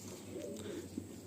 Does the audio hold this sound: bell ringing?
no